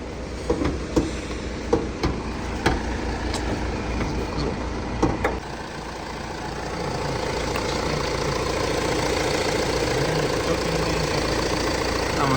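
A Volkswagen Caddy 1.6 MPI petrol engine runs steadily at a low, even rumble, with a few sharp clicks and knocks early on before the hum settles and grows slightly louder.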